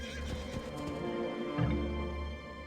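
Horses neighing in the Age of Empires 2 video game, a couple of whinnies over a steady low game ambience with faint hoof clip-clop, no voices.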